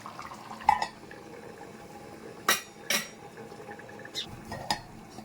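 A metal lid is set onto a cooking pot of egg, capsicum and potato curry, with two sharp clanks near the middle and lighter knocks toward the end against a quiet kitchen background.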